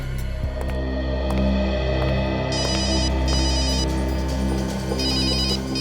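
A telephone rings repeatedly in bursts over a steady low hum, fairly close, with no talking.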